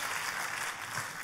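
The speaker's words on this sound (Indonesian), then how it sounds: "kalau mau tepuk tangannya boleh paling meriah buat Yesus Tuhan kita" A church congregation applauds during a sermon, making a dense, even burst of clapping that fills the room at moderate volume.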